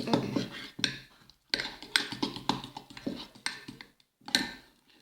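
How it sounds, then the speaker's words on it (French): Homemade toothpaste mixture is stirred in a small bowl, a utensil clinking and scraping in quick uneven bursts with short pauses, close and fairly quiet. "On remélange bien tout."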